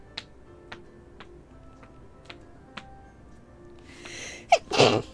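A single loud sneeze bursts out near the end, following a few faint sharp ticks or taps spaced out across the quiet beginning.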